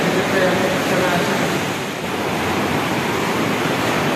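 Water rushes continuously at a water filtering site, a dense, steady roar heard up close that dips briefly midway and then holds.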